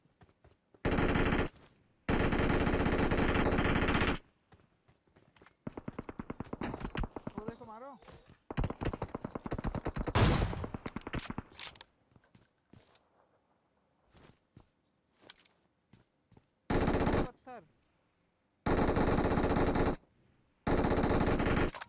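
Machine gun fire from a battle royale video game: loud, dense bursts of automatic shots with short gaps between them and scattered quieter single shots in the middle, while a voice talks intermittently.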